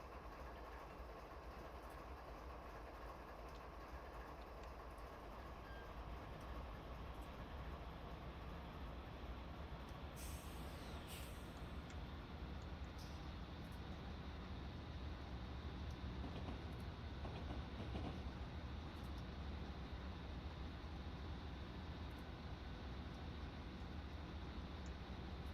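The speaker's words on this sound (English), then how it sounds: "Now passing the Leavenworth Amtrak station." Amtrak passenger train rolling past Leavenworth station, a steady low rumble with faint clickety-clack of wheels on rail, continuous and close throughout, with a brief high metallic squeal partway through.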